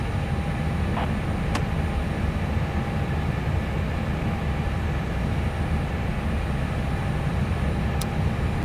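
Airliner engines roaring at takeoff power in Microsoft Flight Simulator 2020, a constant broadband rumble held for the whole stretch with a couple of faint brief clicks; no talking.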